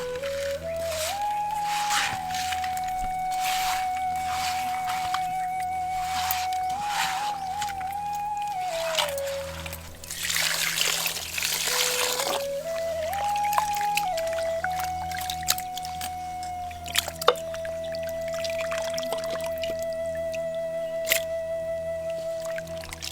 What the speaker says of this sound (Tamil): கொஞ்சம் கைப்பிடி அளவு கல்லுப்பு சேர்த்து அது கூட கொஞ்சம் ராகி மாவை சேர்த்து நல்லா பெரட்டி கழுவ